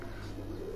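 A capped-breed pigeon coos in a short, soft, low burble, heard close and alone against a quiet background.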